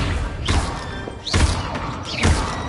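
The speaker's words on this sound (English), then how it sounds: "Accio." Spell casting in Hogwarts Legacy, an Accio summoning spell among others: three sharp rising whooshes with soft thumps, spaced about a second apart and fairly close.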